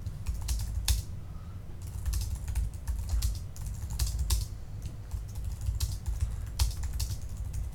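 Steady, rapid clatter of keys on a computer keyboard while writing a post in a math Q&A site editor, close and dry with irregular bursts and brief pauses, no voices.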